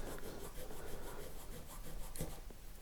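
Abrasive rubber fret eraser rubbed back and forth over the metal frets of a Precision bass build, a soft, quiet scrubbing rasp in quick repeated strokes.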